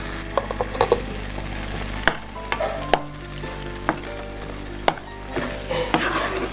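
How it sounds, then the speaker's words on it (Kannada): Chutney tempering frying in a pan, with a continuous close sizzle broken by sharp spoon knocks and stirring scrapes at uneven intervals, no voices over it. "ಚಟ್ನಿಗೆ ಒಗ್ಗರಣೆ ಕೊಟ್ಟು ಒಂದು ಐದು ನಿಮಿಷ ಅದನ್ನು ಫ್ರೈ ಮಾಡಿಕೊಂಡ್ರೆ"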